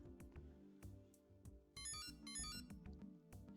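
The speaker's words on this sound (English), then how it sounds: "And then a phone rang. Kunosato picked it up without saying a word to Shinjo. Very cyberpunk-esque ringtone there as well." A cyberpunk-style electronic phone ringtone plays in the video game ChäoS;Child, a rhythmic synthetic pattern of pulses with a bright chiming burst in the middle, fairly quiet and with no talking.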